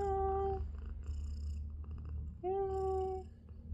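A pet cat gives two drawn-out, close meows separated by a pause, with a soft, steady purr rumbling underneath throughout.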